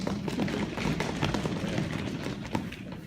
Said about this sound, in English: you see they're stomping, that's how we applaud